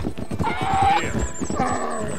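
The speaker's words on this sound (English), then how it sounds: "You're gonna jump the bridge, donkey." A donkey in the video game Red Dead Redemption 2 runs with hoof clip-clops and whinnying or braying cries, close and fairly loud, with no talk.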